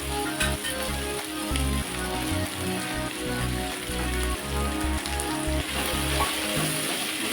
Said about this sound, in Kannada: ಇದು ಫ್ರೈ ಆಗ್ತಾ ಇದೆ. ಇದಕ್ಕೆ ಹೀರೆಕಾಯಿ ಹಾಕೋತಾ ಇದ್ದೀನಿ.